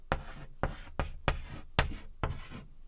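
A marker writes across a board in six quick, scratchy strokes, each one a short rough squeak followed by a brief gap, close and fairly quiet.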